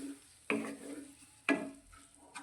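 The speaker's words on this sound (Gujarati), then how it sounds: "અને મસાલાને શાકભાજી સાથે સારી રીતે સાતરી લઈશું." Spices and vegetables sauté in oil and ghee with a splash of water for bajra khichdi. Three distinct scraping stirs of a spoon in the pot sound over a soft, steady sizzle.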